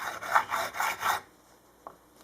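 A StewMac diamond fret crowning file rubs along a guitar fret in five quick, rhythmic rasping strokes, close and fairly quiet, then a pause and one faint tap.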